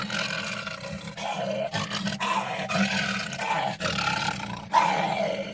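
A voice imitating a lion's roar for The Lion King, a series of deep, growling roars repeated close up with short pauses between them.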